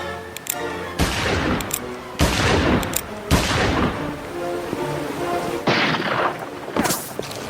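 Rifle shots fired from boulders across a canyon, a series of sharp cracks spaced about a second apart, each trailing into a long echoing decay over a busy background.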